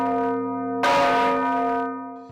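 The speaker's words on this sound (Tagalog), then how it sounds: "Gusto ko marinig yung tunog ng kampana." A large church bell in Iloilo or Capiz, Philippines, audible up to 8 kilometres away, rings with a deep, sustained hum, then a fresh loud strike midway swells into a long, shimmering resonance that slowly fades.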